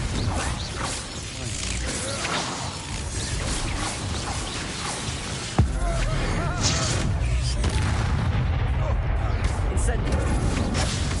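Confringo blasting-spell explosions from combat in the Hogwarts Legacy video game: a dense, continuous barrage with a sharp blast near the middle, mixed under game effects and dialogue.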